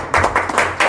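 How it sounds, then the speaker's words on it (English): Applause at a Vader city council meeting after a motion carries: a few people clapping in short, uneven bursts, fairly close and moderately loud, with no talk over it. "I think we need a round of applause"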